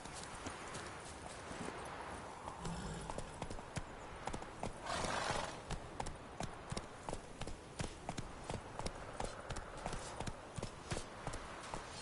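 Hooves beat steadily as the horse Roach gallops in The Witcher 3. The rhythmic clip-clop is close and even, with a brief neigh partway through and some faint game voices.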